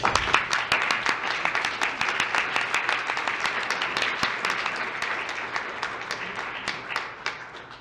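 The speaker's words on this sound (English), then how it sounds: "Sharon and the McMinimans deserve a round of applause." An audience claps in a dense, sustained round of applause at an 85th birthday celebration, many hands close together, slowly thinning toward the end.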